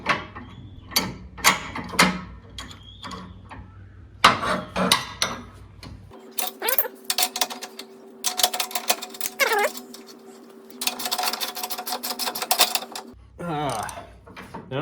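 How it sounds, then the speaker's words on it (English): Nuts being tightened on the front of a John Deere X700 54-inch mower deck, with quick close ratcheting clicks in bursts, plus a steady whirring stretch in the middle, amid clanks and handling noise. "now I need to actually tighten these nuts on the front of this"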